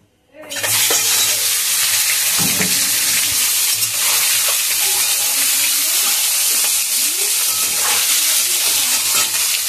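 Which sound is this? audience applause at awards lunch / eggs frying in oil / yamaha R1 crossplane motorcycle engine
eggs frying in oil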